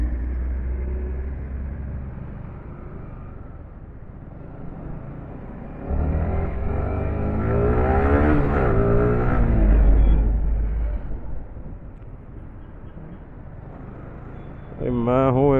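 A Yamaha R15 V3 sportbike with a vibration-causing engine issue idles, then revs up strongly in a rising whine before settling back, with someone talking near the end.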